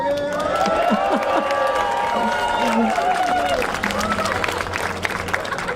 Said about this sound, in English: Anybody want to clap for him?